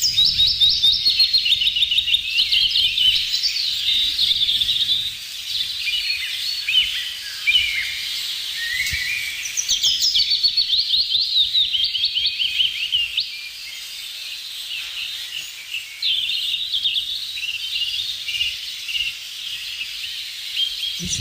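Birds chirp and sing continuously in an outdoor setting, with dense overlapping high-pitched calls and trills going on steadily throughout.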